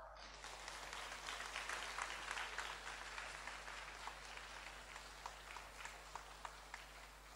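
An audience at a gathering in Sydney, Australia, claps steadily throughout, a dense wash of many hands that stays fairly even, with a few sharper individual claps standing out toward the end.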